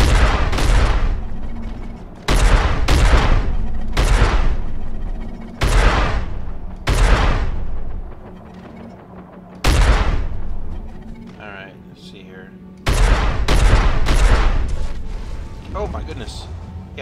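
A big gun in the space game Star Citizen fires repeatedly: heavy booming shots, each with a long rumbling tail, arriving in irregular bursts and pairs, loud and close.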